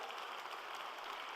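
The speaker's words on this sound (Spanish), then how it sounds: "¿Qué tal si le damos un aplauso más fuerte a la iglesia?" A church congregation gives a sustained round of applause, dense steady clapping from many hands filling the room, with no voices on top.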